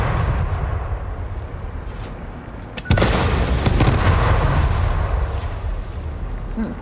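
An explosion goes off in the factory-building game Satisfactory, a sudden loud boom followed by a sustained roaring rumble that stays dense and loud to the end.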